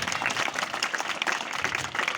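A crowd at an Independence Day school event in rural Rajasthan, India, applauds steadily, dense clapping sustained throughout at a lively, even level.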